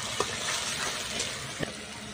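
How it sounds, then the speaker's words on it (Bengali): Onions and spice paste for a katla fish rezala fry gently in a pan, a faint steady sizzle broken by a couple of soft stirring clicks. "তবু একটু আমি হালকা করে ভেজে নেব।"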